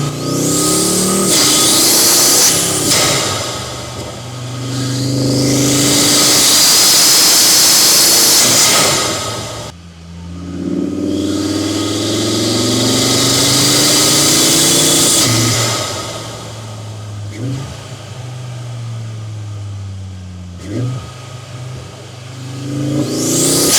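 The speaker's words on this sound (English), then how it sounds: "I've got a mic inside the engine bay." Loud Audi RS3 engine roaring and revving from very close through a large aftermarket intake, with rising and falling pitch sweeps, a deep intake rumble and a brief cut midway.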